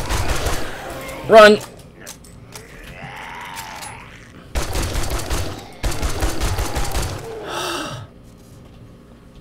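Gunfire in the video game 7 Days to Die, rapid bursts of shots in two stretches amid gasps and breathing, with a shouted word and player voices around it.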